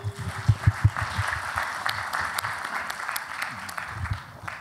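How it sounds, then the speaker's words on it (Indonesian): An audience at a Srimulat comedy stage event applauds, a moderate wash of clapping with a few louder low thumps early on, tapering toward the end. "Tepuk tangan untuk kalian semua."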